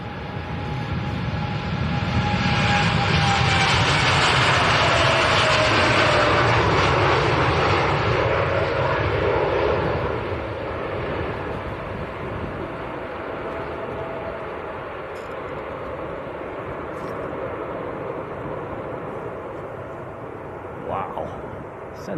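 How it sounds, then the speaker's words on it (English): A Saudia Boeing Dreamliner roars at Manchester Airport, its engine noise swelling loud and close before easing to a lower steady rumble, with a voice talking over it. "Here comes the Saudi Dreamliner to Jeddah in the neon livery."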